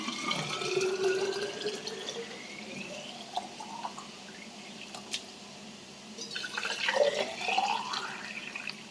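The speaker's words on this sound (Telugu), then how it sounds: "వాటర్ బాటిల్స్ కూడా రెడీ చేసుకుంటున్నా" Water runs into children's water bottles in a home kitchen, a steady pouring and trickling wash with rising tones as each bottle fills, heard alone at moderate level without talk.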